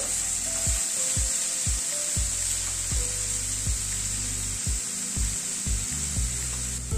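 Finely chopped onion fries in a pan with a steady bright sizzle, punctuated by a series of sharp spatula knocks and scrapes against the pan at an irregular rhythm, close and clear.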